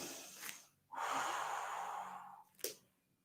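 A single audible inhale during a pilates yoga flow, a breathy rush of air lasting over a second, bracketed by short sharp sniffs before and after, close and alone without talk.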